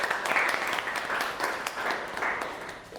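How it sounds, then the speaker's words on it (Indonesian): Applause from students in a university class, a steady wash of many hands clapping for about three seconds, fairly close and evenly loud, tapering slightly at the end. "Tepuk tangan dulu untuk Canda dong."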